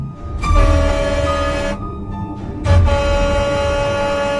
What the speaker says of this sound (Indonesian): Mendadak terdengar suara klakson nyaring dari belakang